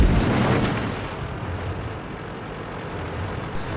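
Artillery shells boom and rumble past in a tank battle video game, a loud burst at the start fading into a sustained roar with a faint pop near the end.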